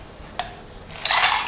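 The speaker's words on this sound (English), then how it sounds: "Brown sugar. Stir." A spoon stirs brown sugar into espresso, a single tap against the cup followed by a bright, gritty scraping swirl that grows louder near the end, close and alone.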